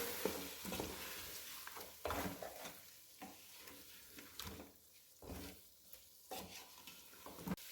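Biryani masala with garam masala powder and turmeric being stirred and fried for chicken biryani, a soft sizzle broken by several scraping stirs at an uneven rhythm, close by with no talking.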